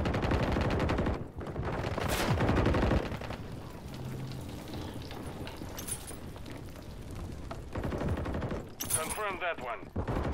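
Rapid bursts of gunfire in the Call of Duty: Modern Warfare III beta, with loud clustered machine-gun volleys at the start and again near the end, and a quieter stretch between. Voices talk over the shooting.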